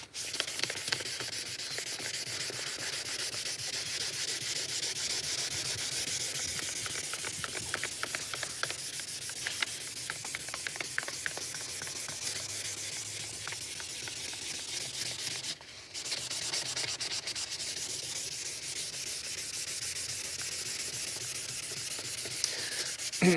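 A car headlight lens on a Vauxhall Corsa is hand sanded with 1200 grit sandpaper, giving a steady, close, rasping scrub with rapid back-and-forth strokes and a brief pause partway through.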